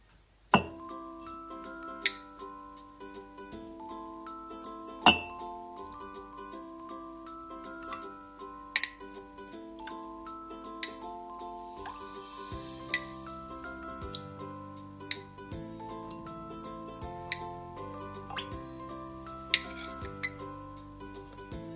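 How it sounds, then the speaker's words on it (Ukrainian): A spoon clinks and taps against glasses at a steady, sparse rhythm, stirring sugar into warm water, with soft gentle music playing underneath throughout. "Розмішуємо, щоб цукор повністю розчинився у воді."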